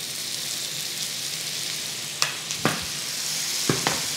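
Butter melting into a hot frying pan with trout, a steady close sizzle with a few sharp spatters and utensil knocks toward the end, no one speaking.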